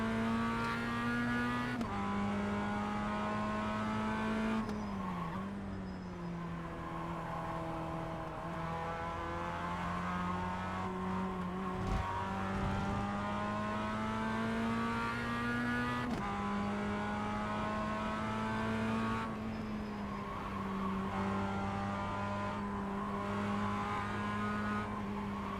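Simulated Mazda MX-5 race car engine in iRacing, a steady buzzing drone held near and loud throughout, with pitch dipping and rising as it shifts and revs through corners, occasional tire squeal mixed in.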